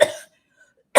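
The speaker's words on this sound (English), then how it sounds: "Hopefully my cough won't be too bad." Two sharp coughs, one at the start and one at the end, separated by nearly a second of silence. They are close and loud.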